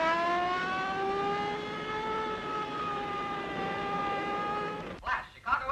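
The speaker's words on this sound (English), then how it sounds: "Step on that siren." Police car siren wailing steadily in a long rising-and-falling tone, loud and close throughout, ending in a brief burst of engine and traffic noise.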